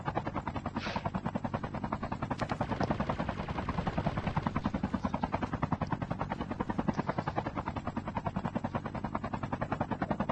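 A helicopter in a video game thumps overhead with a continuous, loud, rhythmic rotor chop that stays steady for the whole stretch, mixed with faint gunfire-like crackle.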